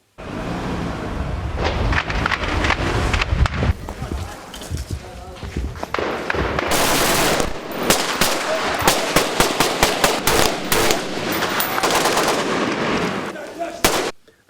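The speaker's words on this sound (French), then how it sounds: "Alors il y a des tanks qui tirent de tous les côtés." Tanks and weapons fire during street fighting in Tripoli in 2011, with dense, loud bursts of shots and blasts running almost continuously, voices talking amid the gunfire.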